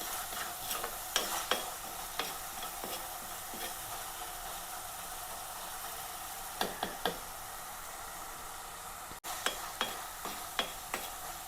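Onion, green chilli and ginger sauté in a pan for a Kerala fish curry, a soft continuous sizzle with scattered scraping stirs of a spoon at irregular intervals, close and fairly quiet, with no talking.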